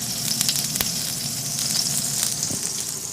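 Bacon grease sizzles steadily in a stock pot, a continuous close crackling hiss with occasional sharper pops, heard alone without voices.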